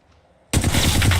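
Rapid automatic gunfire from the battle royale shooter Apex Legends erupts abruptly after a quiet half second, then continues as loud, dense sustained bursts.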